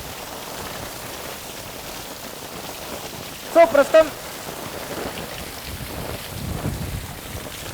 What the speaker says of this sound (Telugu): సో మనం చూస్తున్నాం చాలా తీవ్రమైనటువంటి వర్షం అండ్ గాలి కూడా